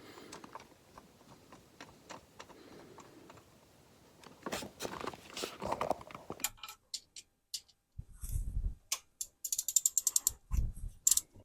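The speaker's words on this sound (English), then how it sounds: "Now we're going to torque it down." A torque wrench ratchets a drive belt tensioner bolt on a Mercedes-Benz C300, close up. Rapid, even clicks come in quick runs, with clinks and handling noises of tools between them and quiet shuffling before.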